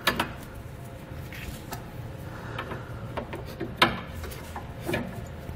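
Several sharp mechanical clicks and ratcheting snaps of a strap being cinched tight under a car, spaced irregularly over a few seconds, close by, against a low rumbling background.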